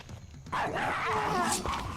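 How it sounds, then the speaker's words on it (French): Hellhound dogs bark and snarl in the video game The First Templar, a dense pack of growls and yelps over game background noise, close and loud. "On va attendre les chiens de l'enfer."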